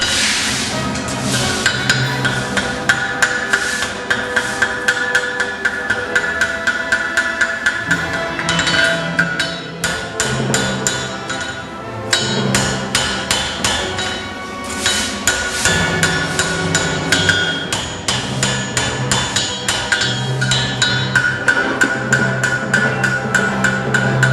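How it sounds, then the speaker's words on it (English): A farrier hammers a hunter's hind horseshoe on an anvil, drawing the toe clip against the anvil heel's square edge. The ringing metal strikes come in steady, rapid runs, close and loud, with only brief pauses between bursts. "The clip is then drawn against another square edge on the anvil heel."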